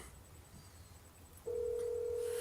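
Telephone call tones: a faint high beep pattern, then a loud steady dial-style tone that starts partway through and holds to the end.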